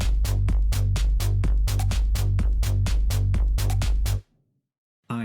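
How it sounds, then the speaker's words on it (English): Basic drum and bass part from a pop/EDM production: steady four-on-the-floor kick with bright hi-hats and claps over a thick low bass line, loud and close, stopping abruptly near the end before a brief hit returns. "I have a basic drum and bass sound like this."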